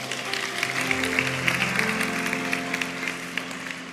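Congregation applause during a church service, a crowd clapping steadily while sustained organ or keyboard chords play underneath, moderately loud and continuous.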